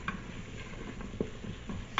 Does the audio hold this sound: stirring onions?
yes